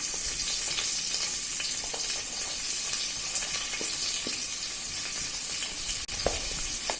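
Onions and green chillies sizzle steadily in hot oil for tomato rice, a loud continuous hiss with a few faint clicks of stirring and one sharp knock near the end.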